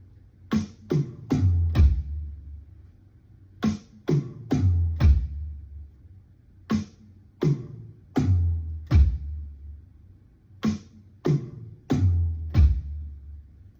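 Drum fill of repeated triplets, three quick strokes followed by a deeper bass drum thump, played slowly with pauses between each group, no talking.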